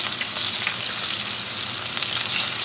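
Bison ribeye steak sizzles steadily in a hot pan with melted butter and garlic, a dense, continuous frying crackle close up with no talking.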